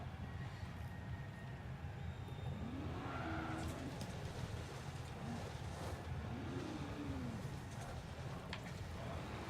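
A V12 Lotus race car engine drones at high speed in the racing game Forza 7, a continuous loud roar with brief rising and falling tonal sweeps as it holds near top speed, with no talking.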